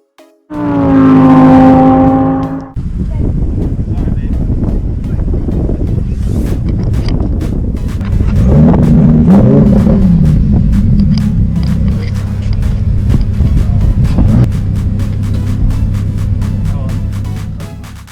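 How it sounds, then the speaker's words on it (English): A Lamborghini driving on the race track at Las Vegas Motor Speedway, its engine roaring loudly and steadily close by with wind buffeting, a sustained rising and falling drone with no talk. "the Lamborghini sounds much more badass when you're doing it"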